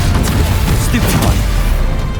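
Stupefy spell being cast repeatedly in Hogwarts Legacy on PS5 Pro, a run of loud, close magical bursts and impact crashes over dense combat noise, with a voice speaking throughout.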